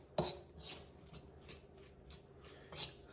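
Fork scraping and clinking in a bowl while mixing low carb fries dough made with xanthan gum, a few short scratchy strokes with a sharp click near the start, close and fairly quiet.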